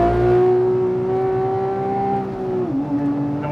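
A Porsche 997.2 GT3 RS with its 3.8-litre flat-six pulls out of a corner on a race track, its loud, steady engine howl climbing gradually before the pitch drops sharply at a gear change.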